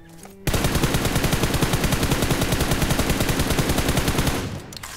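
Sustained rapid automatic gunfire from a weapon fired while crouching in the mobile shooter BGMI, a dense rhythmic burst lasting several seconds, loud and close, ending abruptly.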